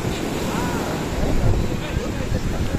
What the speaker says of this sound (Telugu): ఓ అలలు వస్తున్నాయి